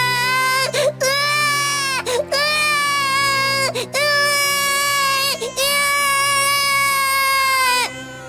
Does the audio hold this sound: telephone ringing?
no